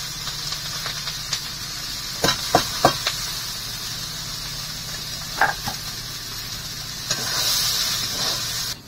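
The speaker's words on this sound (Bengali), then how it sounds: "এবার ভাজা হয়ে গেছে, এবার আমি বুটটা ঢেলে দেবো" Chickpeas frying in a hot pan with cumin and chili, giving a continuous hiss with a few sharp spatula clicks and scrapes and a swell of sizzling near the end.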